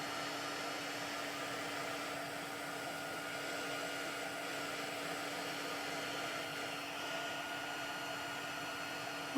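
An embossing heat tool melts powder with a steady, loud blowing whoosh like a hair dryer and a constant hum, running without a break from start to finish.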